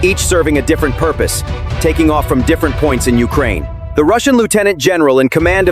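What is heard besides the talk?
No everyday noises stand out.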